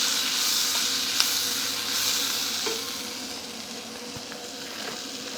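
Sweet peppers softened in a pan sizzle with a steady bright hiss and crackle, close and continuous, fading slightly toward the end, with occasional small pops and no talking.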